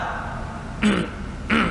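Someone clears their throat twice, two short close hems about half a second apart over a quiet background hum.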